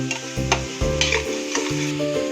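An onion and potato mixture is sautéed in a pan, a close sizzle broken by repeated scraping stirs and light clinks of the utensil against the pan.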